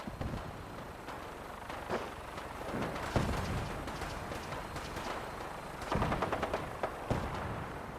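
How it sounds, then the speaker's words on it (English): Gunfire in Fallout 4, scattered sharp shots and short bursts punctuating a low, busy background, with a cluster of rapid reports near the end, moderately quiet overall. "We go in shooting."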